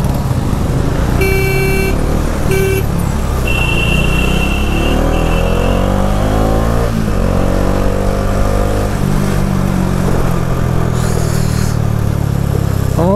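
Motorcycle with a modified silencer thumps and revs amid a traffic jam behind a lorry on a mountain road, with rising engine notes, passing vehicles and several short horn toots.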